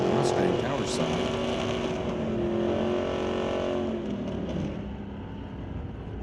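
Drag racing launch at a strip, an 81 Camaro and a Mustang revving and pulling away from a red light start, loud continuous engine roar that fades slightly toward the end, with an announcer talking over it.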